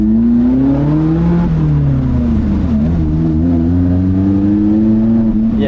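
A Lotus Elise sports car engine drones loudly in first gear on a twisty road, its pitch rising and dipping slightly as it accelerates, heard steadily from inside the car with no talking.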